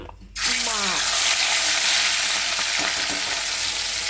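Large pieces of catla fish dropping into hot oil in a kadai, a sudden loud sizzle that holds steady and close after a brief quieter start, with a voice heard over it.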